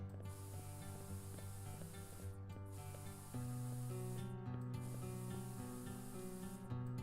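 Steady hissing spray from the spray paint tool in the painting game Passpartout, running continuously over tonal background music with a few brief breaks.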